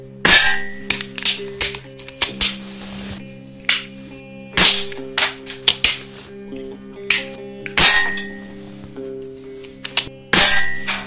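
A Ruger Standard pistol fires a string of test shots, each a sharp, loud crack with a metallic ringing tail. The shots come in irregular bursts over several seconds with no talking.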